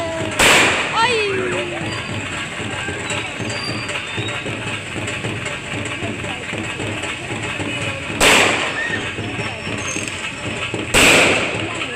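Firecrackers bursting near a house during what seems a wedding celebration: three loud sharp cracks spread out over several seconds, with a crowd murmuring and people talking throughout.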